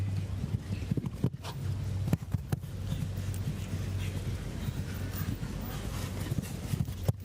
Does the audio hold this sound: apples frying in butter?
no